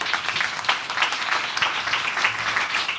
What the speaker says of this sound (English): But another round of applause for her.